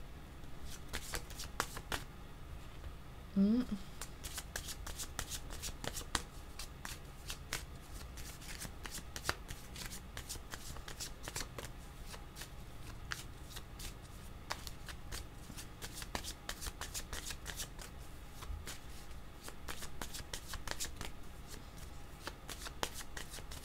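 Tarot cards are shuffled continuously by hand up close, a rapid crisp riffling and flicking texture with sharp card snaps repeating throughout and no speech.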